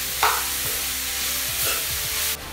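Onions for an onion pickle stir-fried in a pan with salt, a steady close sizzle broken by a few scraping spoon strokes, cutting off abruptly near the end.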